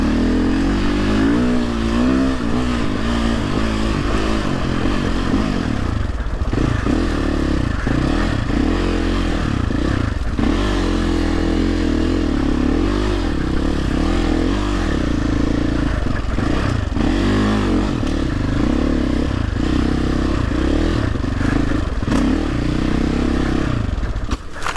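A Sherco 450 SEF Factory enduro motorcycle with a fault that keeps making it cut out, ridden on a tight trail, revs loudly and continuously close by, with wavering engine pitch and clattering rises and dips throughout.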